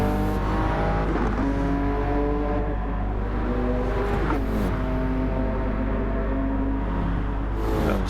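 Race cars lap Bathurst in Gran Turismo 7, a dense pack of engines droning and whining continuously, pitch rising and falling through gear changes, loud and unbroken throughout.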